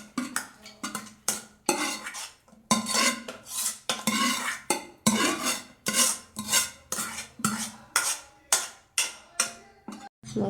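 A spoon works masala into a thick, soaked semolina batter for rava appam, producing a steady run of wet, rhythmic stirring strokes and scrapes against the bowl, close and fairly loud, with no voices.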